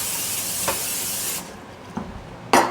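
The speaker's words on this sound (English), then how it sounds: "I just gave it a little spray of non-stick." Non-stick cooking spray hissing onto an air fryer tray, one long aerosol spray of over a second followed by a sharp short burst, close and fairly loud, with light clicks of the can between.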